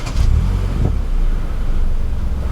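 A 2023 Hyundai Venue crossover starts up and idles, with a loud low engine rumble close by that settles into a steady, even hum.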